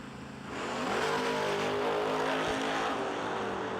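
A 1964.5 Mustang drag racing car at the Bernie Mann Memorial No Delay Nationals roars up hard after half a second and holds a loud, sustained high-revving engine howl to the end.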